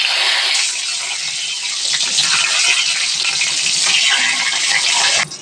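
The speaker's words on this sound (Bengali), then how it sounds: "এখন বেগুনগুলো দিয়ে দিব।" Eggplant pieces frying in hot oil in a wok for mashed eggplant, a loud, steady broadband sizzle that runs continuously and close, cutting off abruptly near the end.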